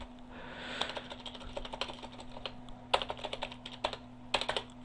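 Keys clatter on a computer keyboard in irregular bursts of quick taps with short pauses, close by over a steady low hum.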